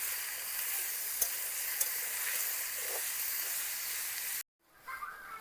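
Drumstick vegetable pieces fry in hot oil with a steady, bright sizzle and a few sharp pops and stirring clicks, then a brief cut to a quieter sizzle near the end.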